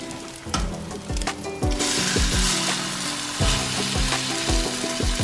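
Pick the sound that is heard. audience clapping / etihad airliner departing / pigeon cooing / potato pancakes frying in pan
potato pancakes frying in pan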